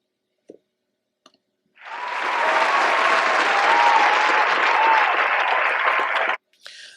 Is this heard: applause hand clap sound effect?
yes